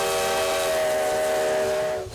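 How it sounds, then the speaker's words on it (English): Coal-fired steam locomotive engine 93, built 1909, sounds its whistle in Ely, Nevada: one loud, sustained, chord-like blast held for about two seconds before cutting off. "engine number 93 rolls through the Nevada sagebrush. Powered by coal fire and steam"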